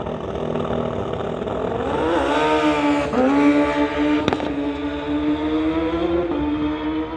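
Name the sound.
motorcycle launching down drag strip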